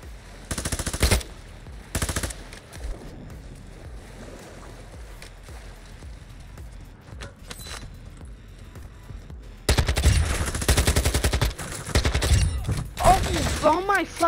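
Gunfire in the Call of Duty DMZ video game: short bursts of automatic fire early on, then a dense, loud stretch of rapid shots toward the end.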